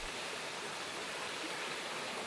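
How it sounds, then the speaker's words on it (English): Freshwater springs bubbling out of rocks high in the gullies of the Kimberley Plateau make a steady, soft hiss of trickling water, even and unbroken, with no voices. "we find freshwater springs bubbling out of the rocks"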